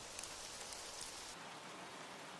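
Steady rain falls as a soft, even hiss of many drops, faint and continuous throughout with a slight shift in texture partway, no voices present.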